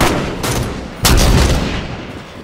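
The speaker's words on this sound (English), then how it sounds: "Sniper fire" Sniper rifle fire in Halo 5: Guardians during a snipers-only arena match, with two loud, broadband blasts about half a second apart, the second heavier and trailing off into rumbling echo.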